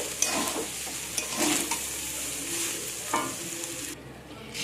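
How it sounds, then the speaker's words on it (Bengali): Vegetable fried rice tossed and mixed in a hot pan, with close scraping and stirring strokes over a continuous sizzle and a few sharper clinks of the spatula before the frying suddenly quiets near the end. "সব জিনিস ভালো করে মিক্স করে নেব"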